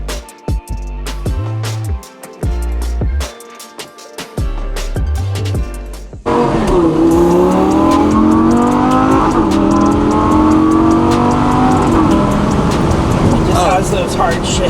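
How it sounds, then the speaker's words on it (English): A Lamborghini Gallardo accelerating hard, with loud close revving broken by quick sharp gear shifts in the first half, then a sustained strong engine roar with rising pitch as it keeps pulling. "Those hard shifts. This thing shifts fast."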